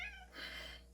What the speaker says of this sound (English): Another starving cat.